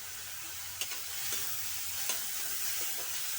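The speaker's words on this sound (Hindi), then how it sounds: "नमक, मिर्च, हल्दी, और इसको छौंक दिया है।" Spices (salt, chilli, turmeric) sizzle softly in hot oil while tempering an aloo gobi potato-cauliflower curry, a steady quiet frying hiss with a couple of faint stirring clicks.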